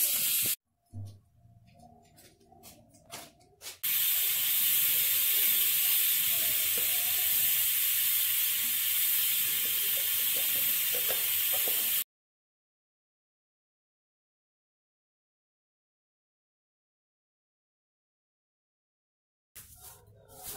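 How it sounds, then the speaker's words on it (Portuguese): Food in a pot sizzles and hisses steadily over a low wood fire, a loud close simmer that runs for several seconds and then cuts to silence. "Deixa ele cozinhar agora no fogo baixo, que já tá mole."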